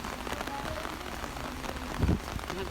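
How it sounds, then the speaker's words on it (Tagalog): Rain is falling outdoors, a steady broadband patter that carries all the way through, with a brief louder thud partway in. "nagulan na."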